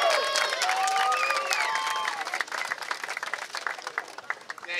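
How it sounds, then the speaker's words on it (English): Applause from a small crowd at an outdoor press conference, brisk clapping mixed with cheers and voices at the start, then thinning to scattered claps. "I don't think I heard a big enough applause."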